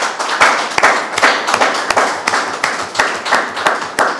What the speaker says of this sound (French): tous les bilans sont adoptés par acclamation.